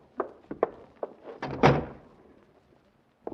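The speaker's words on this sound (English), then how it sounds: "Close that door, Grace." A door shut inside a room in a 1948 radio drama, a few light knocks and clicks followed by one heavier thud of the door closing, close and alone with no voices.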